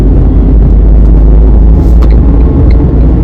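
A car accelerating in third gear, a loud, steady engine drone and road rumble heard from inside the cabin, continuous throughout.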